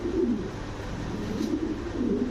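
Racer pigeons at a pigeon sale coo in low, rolling phrases that repeat steadily throughout, fairly loud and close, with no talking.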